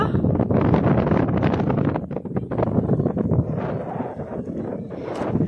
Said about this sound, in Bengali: এখানে এত হাওয়া, এত উইন্ড চারিদিকে